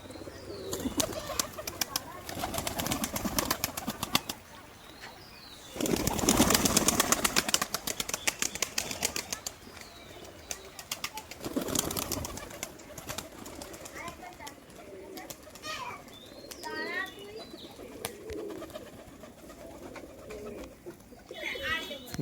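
Turkish tumbler pigeons in a loft give bursts of loud wing flapping with soft cooing between them, and a voice speaks now and then.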